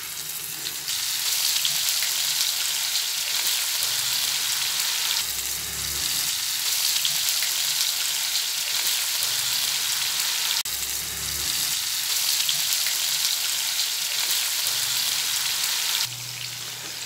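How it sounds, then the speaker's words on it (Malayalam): Tuna pieces seasoned with salt and chili frying in hot oil give a loud, steady sizzle that runs the whole time without talk, with faint low bumps now and then. "അപ്പം ഇനി ഇതിപ്പോൾ എണ്ണ ചൂടായിട്ട് നമുക്കിത് ഓരോന്ന് വറുത്തെടുക്കാം"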